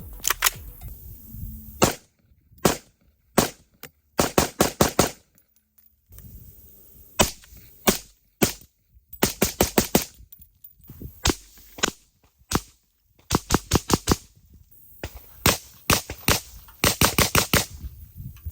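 Suppressed gunshots from an Aero Precision 10.5-inch rifle fitted with a Dead Air Lazarus 6 suppressor, loud sharp cracks fired singly and in rapid strings of several shots with short pauses between.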